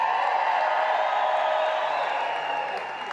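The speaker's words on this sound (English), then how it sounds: "Give yourself a round of applause" Realtors' conference audience applauding and cheering in a large, packed hall at a National Association of Realtors legislative meeting, a dense, steady wash of clapping and crowd noise lasting throughout, fading slightly at the end.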